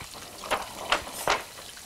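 King fish pieces for pickle fry in hot oil, giving a soft hiss broken by three distinct sharp sizzling crackles.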